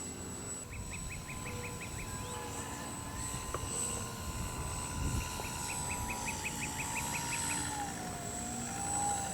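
A Dynam Tiger Moth RC model biplane flies outdoors, its small engine giving a faint, steady distant drone with a thin whine throughout and no talking.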